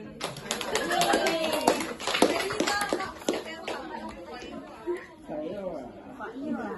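Classroom applause for students after a teaching practice presentation, a burst of sharp, close claps in the first half fading into students chattering.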